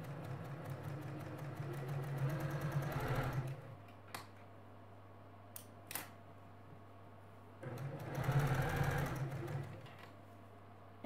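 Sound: sewing machine sewing Dresden Plate quilt blade

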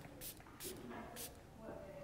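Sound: Hampton Sun setting spray misted onto face

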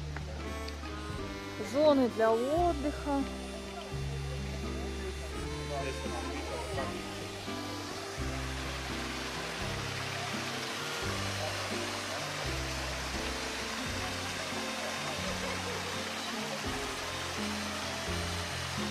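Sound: rushing water of a waterfall or stream

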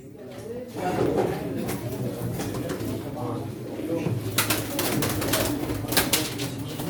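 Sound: pigeons cooing at a pigeon auction

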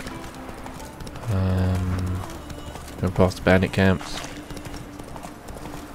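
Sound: horse hooves galloping in video game The Witcher 3

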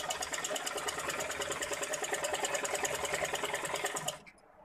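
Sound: sewing machine stitching fabric around the sides

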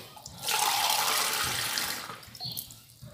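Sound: water poured from a mug onto couscous flour

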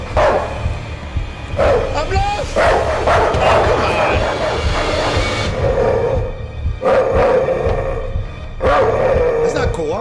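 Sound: dogs barking in Night People horror video game

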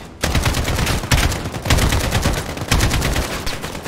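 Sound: gunfire from video game Call of Duty: Modern Warfare

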